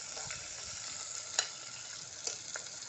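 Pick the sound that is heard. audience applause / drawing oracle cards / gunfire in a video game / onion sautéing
onion sautéing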